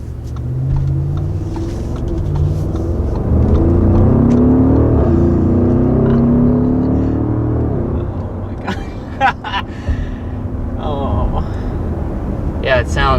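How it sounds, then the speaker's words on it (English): A 2021 Audi SQ7's engine rumbles loudly and steadily with its exhaust baffles open, its deep exhaust note swelling and droning throughout, with a few brief clicks and a voice near the end. "Also, the exhaust baffles opened up."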